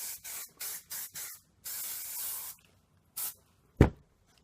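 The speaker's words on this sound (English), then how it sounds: "any flyaways and stuff I kind of just control with my hairspray" Hairspray sprayed onto styled hair in a series of short hissing bursts, several quick puffs followed by one long continuous spray, then a couple more brief bursts, close and clear with no talking.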